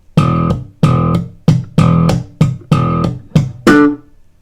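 Slap bass playing a riff, eight sharp percussive slapped and popped notes in a tight syncopated groove, close and loud with no voices.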